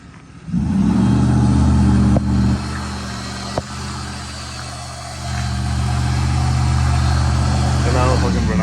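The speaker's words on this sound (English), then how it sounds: "Burn out with the giveaway truck." A giveaway truck's engine fires up close by and revs hard for a burnout, holding a loud, rising roar with a brief dip midway, while people talk over it.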